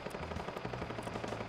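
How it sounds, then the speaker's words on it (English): Fortnite gunfire crackles in a fast, even rapid-fire stream of faint, distant-sounding shots lasting about a second and a half, with no talk over it. "Shooting in front of me? Or is that you?"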